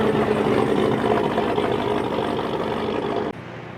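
A truck engine idles close by with a steady, rumbling drone that holds level before dropping off abruptly near the end, with no talk over it.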